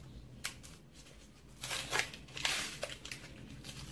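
Crinkly plastic packaging of a makeup product being unwrapped, with a few soft rustles followed by sharper crackling bursts near the end, close and fairly quiet.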